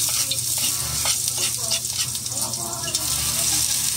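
Garlic fries for chicken tinola in a hot pan as it is stirred, giving a loud, continuous sizzle and crackle with a few scraping strokes, and a voice faintly present beneath.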